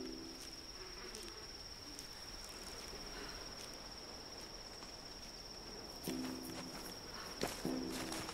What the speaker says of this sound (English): You hear that? Those are footsteps.